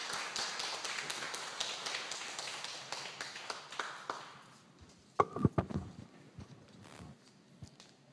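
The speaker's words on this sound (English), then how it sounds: "A round of applause, please." An audience at a hybrid MICE trends webinar breaks into dense, steady clapping that slowly thins out and fades, leaving a few scattered claps and soft knocks.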